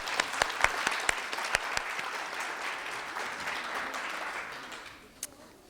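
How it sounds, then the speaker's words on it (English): An audience at a children's speech competition award ceremony applauds the judges with sustained clapping, a few sharp claps standing out early, before the applause fades away near the end. "Let us all give all of our judges another round of applause for their invaluable contributions."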